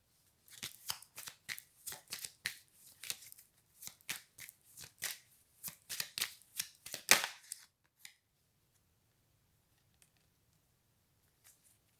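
Tarot cards for a card reading being shuffled, a series of quick riffling bursts in steady rhythm, close and crisp, stopping abruptly and leaving near silence with a couple of faint taps.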